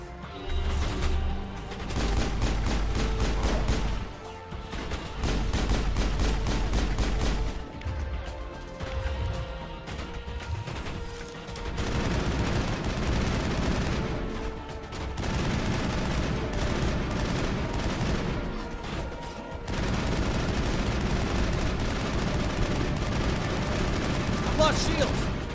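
Heavy gunfire in the video game Mass Effect fills the scene with repeated loud bursts and crashing impacts, pausing briefly between volleys, with voices faintly under the combat.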